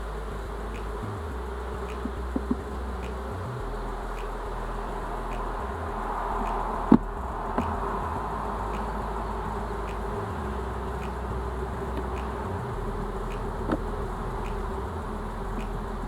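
Bees buzz in a soft, continuous drone that swells and fades around the listener, with a few faint clicks and no voices.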